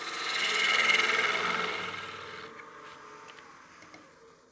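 A woodturning lathe tool cuts the small nub from the center of a partially seasoned wooden bowl, a short rising scrape that peaks then fades into the quieter hum of the spinning lathe, with a few light ticks at the end.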